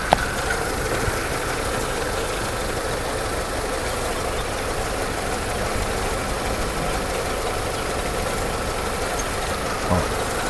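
A car engine idles with a vacuum leak at the joint between the intake pipe and the engine block, producing a steady, even running drone with a couple of faint clicks.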